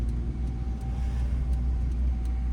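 Car engine in a driving lesson, pulling steadily after a shift into second gear; a moderate, even mid-pitched hum with low rumble, continuous throughout and no talking.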